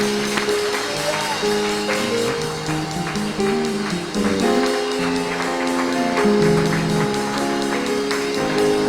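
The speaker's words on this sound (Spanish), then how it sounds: "den fuerte esas palmas al Señor" A church congregation claps together during a Sunday morning service, a steady wash of hand claps mixed with loud music and sustained tones that run the whole time.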